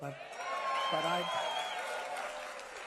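Crowd at a Trump rally cheering and laughing, a steady roar of many voices throughout, with a louder swell near the middle and a few individual voices standing out.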